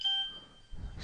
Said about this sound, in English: excuse me, that was my phone.